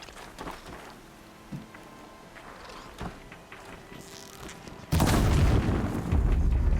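Fire set on an enemy machine in Horizon Zero Dawn, with scattered game effects and small impacts before a sudden loud, dense roaring burst of flame and crackle that holds steady to the end.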